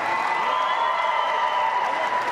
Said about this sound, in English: My crew, round of applause